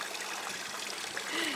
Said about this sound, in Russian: И вот наливаем сейчас воду из колодца.